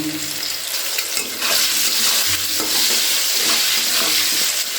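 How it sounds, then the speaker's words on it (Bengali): Potatoes fry hard in a pan with a loud, close, continuous sizzle and a few spatula scrapes. "আলুগুলোকে ভালো করে ভেজে নিচ্ছি আলুটাকে আমি লাল লাল করে ভেজে নিচ্ছি"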